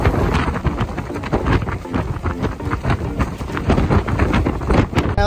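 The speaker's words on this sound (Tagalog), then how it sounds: "Sabi yung hangin, sobrang malakas." Strong wind buffets the microphone in loud, continuous gusts, with rushing air and engine-like rumble aboard a fast Sydney ferry moving over water.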